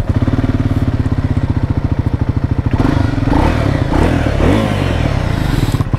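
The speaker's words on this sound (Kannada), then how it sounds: "ಸೊ ಇದ್ರದ್ದು ಫಸ್ಟು ಎಕ್ಸಾಸ್ಟ್ ನೋಟ್ ಕೇಳಿಸ್ತೀನಿ ರೀ, ಯಾವ ಥರ ಇದೆ ಅಂತ ಅಂದ್ಬಿಟ್ಟು" A Triumph Scrambler 400X's 400cc engine idles with a loud, close, evenly pulsing exhaust thump, then revs up briefly and settles back to the steady beat.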